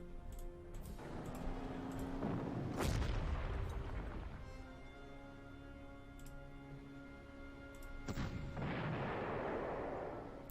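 Artillery fires in the World War II strategy game Panzer Corps during the Arras mission, with deep, rumbling booms near the start, in the middle and again near the end, each fading into a ringing tail.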